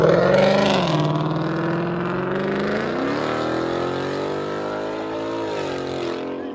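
2016 Ford Mustang GT350 engine with quad exhaust tips, heard at a low throaty idle with a brief blip of revs early on, then settling into a steady burbling rumble close by.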